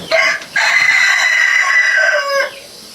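A bird from a flock of egg-laying hens gives one loud, close crow lasting about two seconds, preceded by a short cluck.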